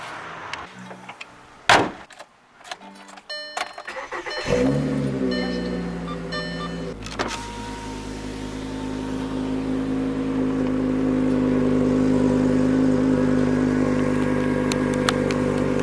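A 2011 VW Golf engine starts after a spark plug change: a few knocks and clanks, then the motor catches and settles into a steady, close idle that swells as it revs, with no talk.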